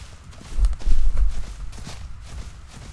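Heavy dinosaur footsteps in the game The Isle, a cluster of thudding low steps close by that swell in the middle and then fade.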